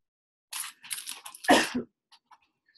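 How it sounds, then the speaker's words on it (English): A few short, harsh coughs burst out in quick succession, close and fairly quiet, followed by small faint clicks and near silence. "I am having a little bit of a cough there"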